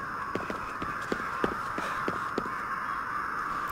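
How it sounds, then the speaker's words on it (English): Crows caw in Ghostwire: Tokyo, a string of rough, fairly close caws at an uneven pace over a constant hum of background ambience, with no speech. "Fucking crows."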